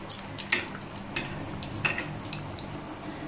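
Murukku spirals frying in hot oil, a low steady bubbling sizzle with a few soft clinks and splashes from stirring, quiet and close, with no voices.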